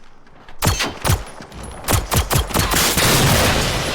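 Gunfire in the video game Generation Zero rings out as a quick string of loud, sharp shots in uneven bursts, then a dense rattling volley near the end.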